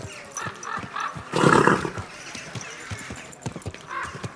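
Horse hooves clop at a steady walking pace in the game Kingdom Come: Deliverance 2, close and clear, with a brief snorting roar midway and soft background ambience.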